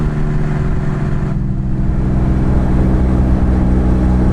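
A 1959 Jaguar XK150S with a 3.4-litre engine cruising at about 32 mph and 2,600 RPM, giving a steady, loud low-pitched hum with a strong harmonic drone and road rumble.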